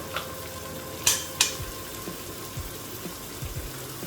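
Spices, ginger-garlic paste and mustard paste sizzle steadily in a pan for a tangra fish curry, with a couple of sharp utensil clinks against the pan early on and no talking.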